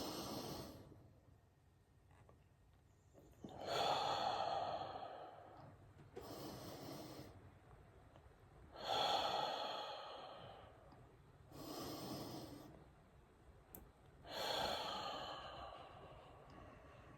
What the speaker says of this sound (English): take 3 deep breaths in through the nose, hold for 4 seconds, and do a long exhale out